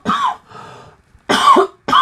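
A person coughs three times close to the microphone, with a softer breathy follow-through after the first cough and short pauses between the loud bursts.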